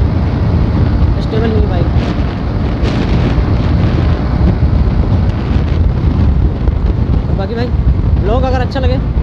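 Heavy wind buffeting the microphone on a motorbike riding at about 70 km/h, a loud continuous roar that fills the whole clip, with a brief voice near the end.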